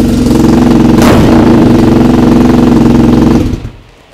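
A BMW R90 boxer-engine motorcycle runs loud and close with a steady throbbing idle, a brief sharp blip partway through, then the engine shuts off and fades out.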